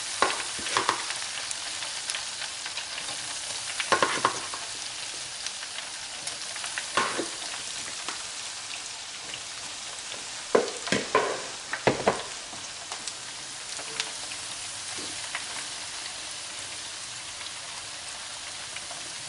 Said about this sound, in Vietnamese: Nhớ khi mình chiên các bạn, mình lấy đũa mình vậy vậy cho nó đều đều